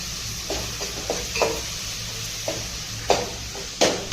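Prawn rice masala with turmeric and salt is sautéed in a pan, a low continuous sizzle broken by about eight light scraping and tapping strokes of a spoon, close by.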